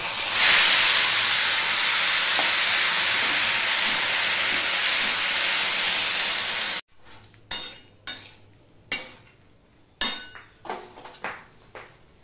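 Chopped tomatoes hit hot oil with five-spice and give a loud, steady hiss for several seconds. A quieter stretch follows, with repeated clinks and scrapes of a spoon stirring in the pan.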